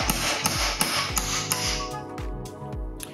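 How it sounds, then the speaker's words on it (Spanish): Repeated hammer blows on a socket-wrench extension driven down a mountain bike's steerer tube to extract the star nut, about eight sharp metallic strikes in a steady rhythm, loud and close over a ringing background tone. "Ahora vamos a utilizar un martillo y este cabezal prolongador de llave de tubo"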